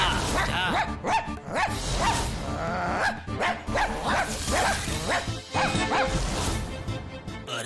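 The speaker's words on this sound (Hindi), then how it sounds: "अरे वाह, कितना सुंदर कुत्ता है।" A cartoon dog barks repeatedly in a lively run of loud, close yaps and bow-wows that continue throughout, with a little whimpering mixed in.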